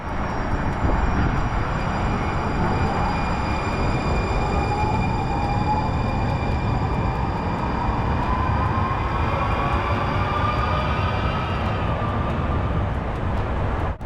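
A light rail train rolls along a winding elevated section of track, giving a continuous rumbling roar with a rising tone that holds steady and fairly loud, no talking.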